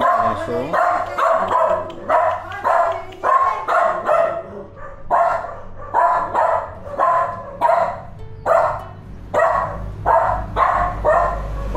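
A dog barks over and over in quick, closely spaced bursts, loud and near, with a steady low hum underneath.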